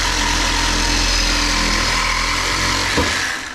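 A saw blade cuts the ends off a custom exhaust for a Predator 212 tracked scooter, a steady loud high-pitched grinding whine that holds for several seconds, then a brief clunk and a winding down.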